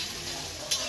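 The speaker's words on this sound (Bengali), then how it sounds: "একটু তেল পেঁয়াজের সঙ্গে বেগুনটা নাড়াচাড়া করে নিলাম।" Eggplant with onion sizzles in a little oil while being stirred, a close, continuous fry hiss with a brief scrape of the spoon against the pan near the end of one second.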